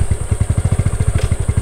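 A broken motorcycle engine runs with a fast, rough, evenly pulsing chug, loud and close, with a slight clattering edge throughout.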